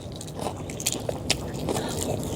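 Close, moist bites and crunchy chewing of balut, a boiled fertilized duck egg, eaten mukbang-style, with scattered crackles and scrapes over a steady background hum.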